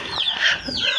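Chickens and a rooster cluck at a farmyard where a one-year-old rooster has been put in with four-month-old chicks; short overlapping calls sound fairly close and fill the whole second without any voices.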